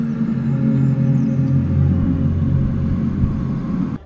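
The Taos Hum, a low, steady droning rumble like an idling truck engine, runs continuously and evenly for about four seconds before stopping abruptly.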